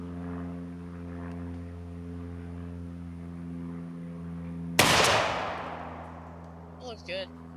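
A single loud shotgun blast from a 3.5 inch shell with number 4 Longbeard XR turkey loads fired at a 40-yard target outdoors, a sharp crack with a long fading tail after a steady engine-like drone, followed by brief faint movement.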